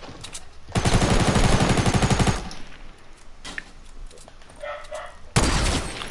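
Fortnite gunplay: a dense burst of rapid automatic gunfire runs for well over a second, then a quieter stretch, ending with a sharp, loud single shot like a sniper quickscope.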